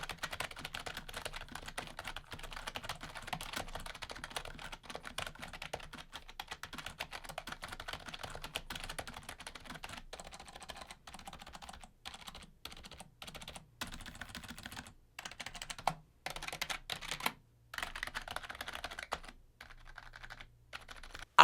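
Soft, muffled keystrokes on a SteelSeries Apex 3 TKL membrane keyboard clatter steadily and quietly, with bursts of typing broken by brief pauses near the end.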